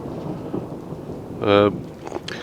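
A steady hiss of rain with a low rumble of thunder in the background, briefly interrupted by a short sustained tone.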